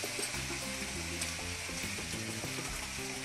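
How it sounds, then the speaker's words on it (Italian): Tubettoni pasta tossed in a pan with guanciale, artichokes and mint, a dense steady sizzle with low clattering of pasta and faint ticking from the pan, close and continuous without speech. "saltiamo i nostri tubettoni"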